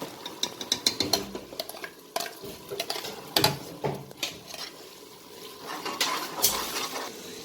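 Green masala paste is scraped and spooned into a pressure cooker. Close, irregular metallic clinks and scraping taps of a utensil against the pot come in short bursts, fairly quiet, with no talk.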